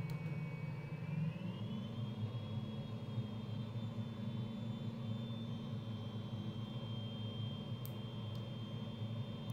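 A Fouga Magister jet taxis along a runway, its engine a steady droning roar with a high whine that rises slightly and then holds, constant and close throughout.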